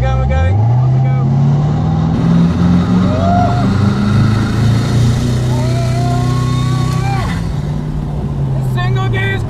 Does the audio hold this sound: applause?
no